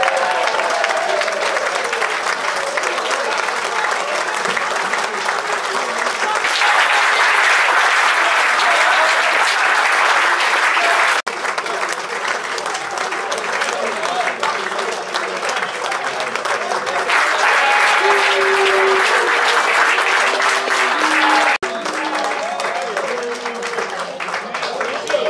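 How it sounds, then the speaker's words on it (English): A crowd claps at a football club awards night honouring a player's 200 appearances. The applause is loud and sustained for the whole stretch, with a voice talking over it at times. "give him a big round of applause"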